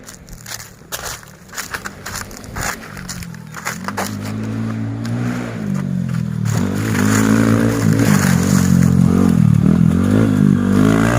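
A dirt bike practicing on an open motocross track in Mae Hong Son starts with scattered crunching and clattering, then its engine climbs into a steady, rising rev that grows louder and closer toward the end.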